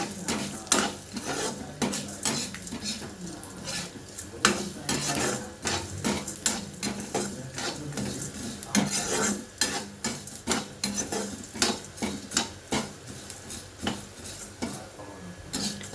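Coriander seeds and cumin roast dry in a kadai, with rapid, rhythmic scraping and rattling from constant stirring over a faint sizzle. The sound is close and busy throughout.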